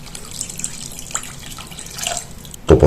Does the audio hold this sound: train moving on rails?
no